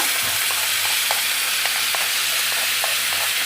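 Cooked young jackfruit is stirred into a sautéed masala frying in a pan, giving a loud, constant, close hiss of sizzling oil with soft, scattered scrapes of the spoon and no talking.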